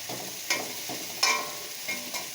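Spices frying in oil in a pan, a soft continuous sizzle punctuated by three sharp spatula scrapes and clinks as the mixture is stirred.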